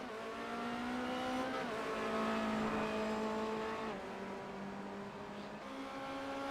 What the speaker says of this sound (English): Bo getting on the throttle nice and hard, even swerving a little bit.